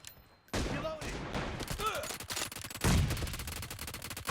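Gunfire in the mobile game BGMI, played with an M24 rifle: a sudden, loud string of rapid shots that stays dense and close throughout, without pauses.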